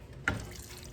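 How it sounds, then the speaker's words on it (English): Hot tap water bursts from a kitchen sink faucet into a cooking pot, a sudden splashing gush that starts abruptly and keeps running steadily and close by. "I'm just putting hot tap water out of the sink."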